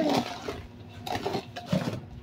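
A spoon scrapes and knocks around inside a cooking pot as a mother stirs food, with several uneven, close scraping passes and no talking.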